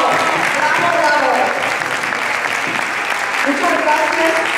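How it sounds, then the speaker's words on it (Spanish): Audience at a leadership retreat breaks into loud, sustained applause, a dense continuous clapping wash with voices and cheering mixed in throughout. "¡Un fuerte aplauso!"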